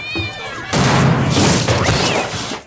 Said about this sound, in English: comically highlighted when a cat falls through the ceiling